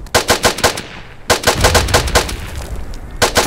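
Machine gun fire in the World War I shooter Verdun, loud rapid bursts of evenly spaced shots with short pauses between volleys, heavy and close throughout.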